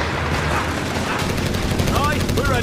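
Vickers machine gun firing in Company of Heroes 3, a steady loud mechanical rattle of rapid shots mixed with game battle noise and soldiers' voices throughout.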